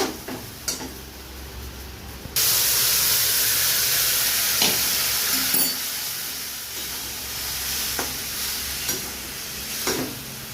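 Hot water poured into a pan of sautéed vegetarian muri ghonto, bursting into a loud, sustained steamy hiss after a couple of seconds of quieter stirring, with occasional spatula knocks as the sizzle gradually settles.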